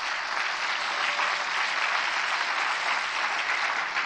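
An audience at a church conference on evangelical unification claps together in a steady, uniform burst of applause lasting the whole stretch, with no voices breaking through.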